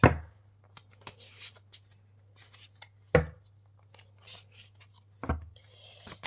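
Oracle cards are shuffled by hand on a small table, with three sharp riffles and slaps separated by soft sliding and tapping of the cards, close and fairly quiet over a low steady hum.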